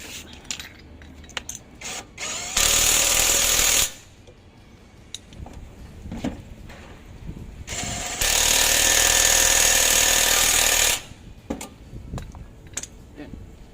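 An impact-type power tool drives the two bolts on a front shock absorber replacement, firing in two loud sustained bursts of hammering rattle separated by quieter clicks and handling noises.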